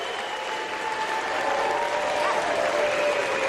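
Steady applause from a large wrestling-event crowd, loud and continuous throughout with no voices rising above it.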